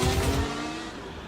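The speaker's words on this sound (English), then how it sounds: "Shall we give the first engine a tickle?" A Formula One car engine revs in a short, loud burst with pulsing low throbs that drop away into a fading, rough idle.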